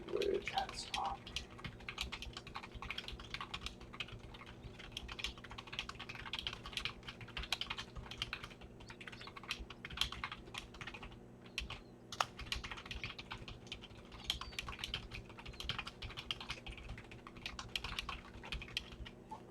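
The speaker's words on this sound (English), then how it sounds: "so that surprised me a lot that I could type faster on this keyboard" Fast typing on a membrane computer keyboard, a steady, dense patter of soft keystrokes that runs throughout at close range with no talking.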